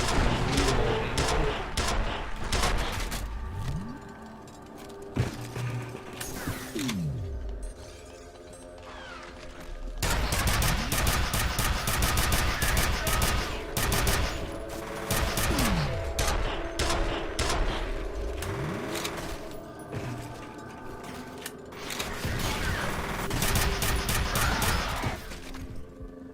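Sustained heavy gunfire from the video game F.E.A.R. on Xbox 360, rapid automatic bursts mixed with crashes and shattering debris, loud and nearly continuous with a brief lull around the middle.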